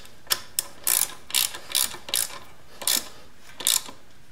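A ratchet tightens a bolt on a 1973 Honda CB750 motorcycle, giving short bursts of close, crisp clicking in an uneven rhythm, about nine strokes with brief pauses between them, with no talk.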